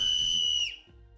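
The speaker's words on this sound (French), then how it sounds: "le sifflet offre une solution rassurante face au harcèlement de rue" Anti-harassment street whistle blown once in a loud, shrill, steady blast that cuts off abruptly, followed by quiet room noise.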